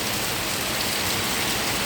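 Heavy rain pours down in Kingston, Jamaica, a dense, unbroken hiss of water striking the ground and road, loud and steady throughout.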